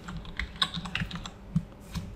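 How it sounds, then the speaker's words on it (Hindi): Typing on a computer keyboard into a Chrome browser: a quick, irregular run of light key clicks, close and fairly quiet, with no voices. "अपना क्रोम का ब्राउजर खोलिए, उसमें टाइप कीजिए"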